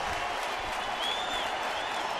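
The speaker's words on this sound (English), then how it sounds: "Here comes the crowd now." Opening-day baseball stadium crowd at a sellout game cheers in a dense, steady roar of applause and voices, loud and continuous throughout.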